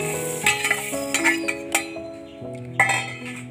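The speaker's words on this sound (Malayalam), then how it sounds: "ചട്ടി നല്ലപോലെ ചൂടായതിന് ശേഷം നമുക്കതിലേക്ക് മല്ലി ഇട്ട് കൊടുക്കാം." Coriander seeds stirred in a hot pan while roasting for coriander coffee, with scraping and light metallic clinks of a spoon against the pan over steady tonal music in the background.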